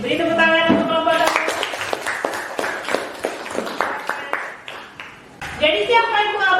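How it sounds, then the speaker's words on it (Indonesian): Students in an Indonesian classroom clap for a group in a short burst of sharp, uneven claps, with a teacher talking just before and after. "beri tepuk tangan untuk kelompok 1."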